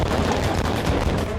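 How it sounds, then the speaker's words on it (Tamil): Firecrackers set off at a TVK victory celebration in Jaffna, Sri Lanka, crackling in a dense, continuous burst of rapid pops that stays loud and unbroken throughout. "சந்தோஷத்துக்கு வெடி கொளுத்தினாங்க"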